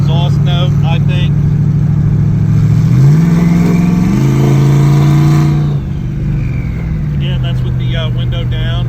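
Through an open window, a single-turbo car's exhaust note swells and steps up through the revs as it accelerates, loud and close, then settles back; someone speaks over the start and end.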